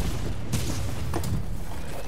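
Fireworks burst in Marvel's Spider-Man 2: two or three booming pops in quick succession, moderately loud against a steady rumbling street background.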